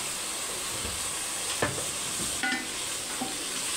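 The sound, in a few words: garlic ginger paste frying in a pan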